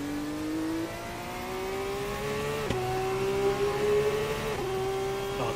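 A race car engine in a sim racing game revs hard and steadily, its pitch climbing gradually through the gears. It sounds close and continuous, with a brief sharp blip near the middle and no talking.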